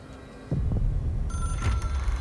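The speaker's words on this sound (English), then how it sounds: "It is a phone." A telephone rings in the game Control, a bright electronic trill entering partway through over a deep throbbing hum, loud and close with no speech.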